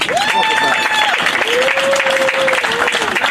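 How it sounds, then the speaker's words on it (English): An audience at a street renaming ceremony gives Robert Slaughter another round of applause, a continuous patter of clapping with a sustained voice or cheer ringing out above it. "I want to give Mr. Slaughter another round of applause"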